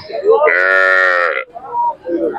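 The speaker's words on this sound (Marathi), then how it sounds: "मोठ्या मापाची गाय आहे" A large Khillar cow at a Sangola cattle market lets out one loud, drawn-out moo up close, with a few low grunting sounds after it.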